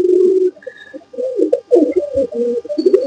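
A pigeon held in the hand coos up close in repeated low, throaty phrases, loud and clear, with short pauses between them.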